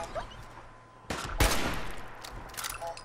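Gunfire in a Fallout 4 shootout: a sharp burst of shots erupts partway through, followed by a dense, sustained crackle of rapid fire that keeps rattling to the end.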